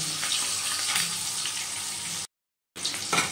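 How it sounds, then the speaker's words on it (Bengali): Eggs frying in oil in a home kitchen, a steady close sizzle and crackle that cuts out briefly to silence and then resumes. "যে ডিমগুলো একটু ভেজে নেব।"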